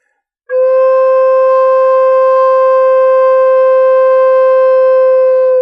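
Steady, clear low tone from an end-blown spirit flute with all finger holes covered, blown lightly; a pure sustained note with faint overtones, held alone for about five seconds after a sharp start.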